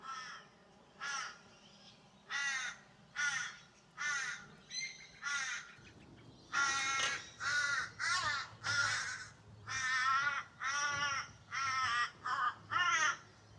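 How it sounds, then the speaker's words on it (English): Crows caw repeatedly in a steady series of harsh calls in botanic gardens in winter, some farther off at first, then louder and closer birds calling in quick succession. "Those crows are definitely vocal."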